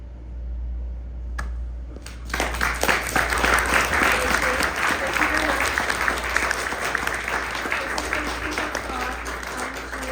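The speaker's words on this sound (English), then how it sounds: "I would like to have an extra round of applause for Bob Sikoriak and Shanti Jones." An audience breaks into sustained, loud applause after a few quiet seconds, dense clapping continuing steadily to the end.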